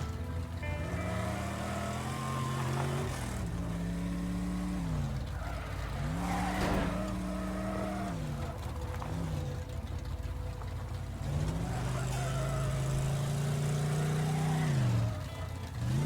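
A fast car speeds through a map in the game Teardown, its engine droning and climbing through repeated revs and gear shifts, with scraping and skidding noises along the way, loud and continuous, without voices.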